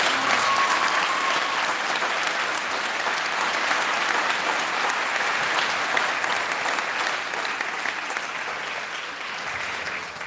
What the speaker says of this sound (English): in a round of applause